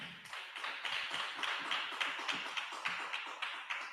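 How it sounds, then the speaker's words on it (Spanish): Congregation clapping during a church service, a dense, steady patter of many hands sustained throughout without voices. "Un aplauso al Señor, no tenga miedo."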